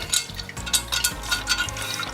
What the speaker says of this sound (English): Get all the excess water out.